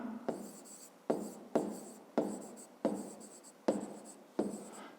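A pen writes on paper in a series of about seven short strokes, each starting with a sharp scratch and then trailing off, close and fairly quiet, as a math exercise is worked out.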